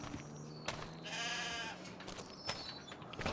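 Sheep bleating in a pen: one clear drawn-out bleat near the middle over quiet barn background, with faint shuffling and a few small knocks around it, no talk.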